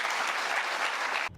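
An audience applauding a political speech, a dense, steady burst of clapping that cuts off abruptly near the end.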